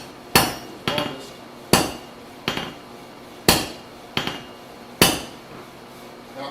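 Sharp, ringing hammer blows on hot metal at an anvil, struck in pairs of a heavy strike and a lighter follow-up, repeated about nine times over several seconds with a short metallic decay after each impact.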